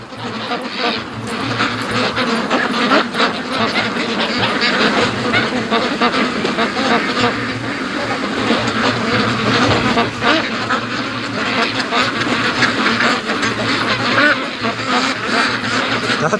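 A flock of free-range Muscovy ducks keeps up a near-constant chorus of quacks and calls outdoors, some close and some farther off, with faint human voices now and then.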